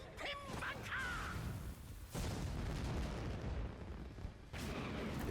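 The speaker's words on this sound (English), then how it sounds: "Just a bunch of fireworks." An ultimate attack in Bleach Brave Souls sets off fireworks-style booms: a few deep bursts and crackling blasts separated by brief quieter gaps, fairly faint in the mix, with game sounds around them.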